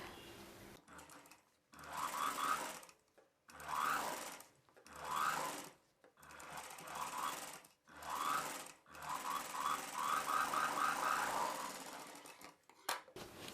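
An electric sewing machine stitches a strip of blouse fabric, running in repeated loud, close bursts of steady whirring with short pauses between them.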